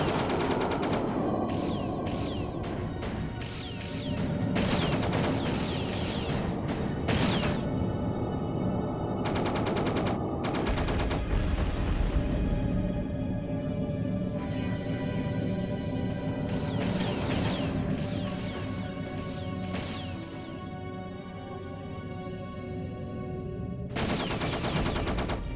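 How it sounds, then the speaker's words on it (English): Dense volleys of Helix missile fire from the G-Police 2 video game, loud and sustained bursts of rapid explosive shots and impacts over a rumbling combat backdrop, with brief pauses between salvos. "the Helix missiles are very effective. They seem to always"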